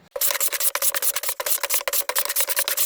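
Wood being hand planed at a street skateboard spot, with repeated close, rhythmic rasping strokes following one another steadily, each a short scraping pass.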